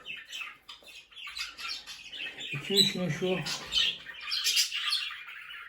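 Budgerigars chirp and chatter in quick, busy bursts close by while a person speaks briefly over them.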